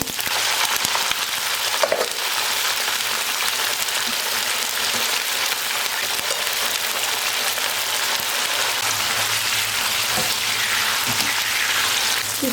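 Loud, continuous sizzling of food frying in a pan, a dense hiss with occasional small crackles, no voices.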